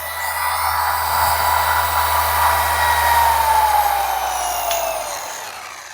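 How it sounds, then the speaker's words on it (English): A Maxshine polisher runs steadily at full speed 6, a loud continuous whirring motor hum that holds constant before beginning to wind down at the end. "And that is at a speed 6, full speed. Look at that. This polisher is going nowhere, and the power is there."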